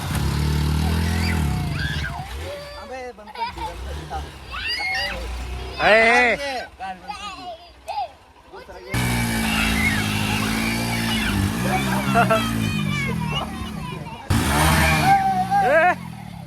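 A Honda Unicorn 160 cc and a Hero Splendor 99 cc motorcycle race each other, their engines droning and revving steadily beneath nearly constant loud talk from people nearby.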